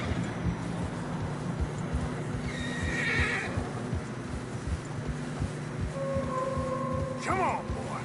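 Horse whinnies and steady hoof clip-clop on a snowy mountain trail in a PS4 game, the neigh rising near the start and again near the end over continuous rhythmic hoofbeats and a wind-like background.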